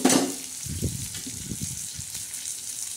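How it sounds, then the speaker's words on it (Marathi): Eggplant frying with red chili powder and salt in a pan, a low sizzle with a few soft stirring knocks, close and fairly quiet, no speech. "तर चांगले आपण अशी फ्राय करणार आहोत"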